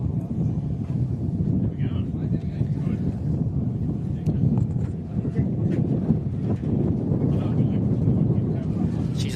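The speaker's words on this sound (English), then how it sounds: "She's a bit windy up here, as you can probably hear through the live feed" Steady wind buffets the microphone on a hilltop rally stage during the Don River Dash, a continuous low rumble with gusts, while a commentator talks over it.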